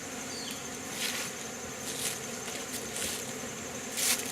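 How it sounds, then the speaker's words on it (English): Yellow jackets swarm around beehives outdoors, a continuous close buzzing hum with individual insects flying loudly past now and then. "And there's yellow jackets everywhere here today."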